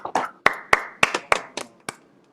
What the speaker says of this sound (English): I think I can invite all of you to unmute and join me in an applause